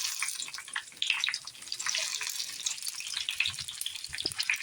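Green chillies fry in hot oil in a wok, giving a close, steady crackling sizzle that runs the whole time with no one speaking.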